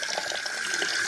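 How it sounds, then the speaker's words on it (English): Warm tap water runs into a kitchen sink over raw meat being washed, a continuous close splashing hiss with no talk. "Turn the water on warm, preferably if you have warm water."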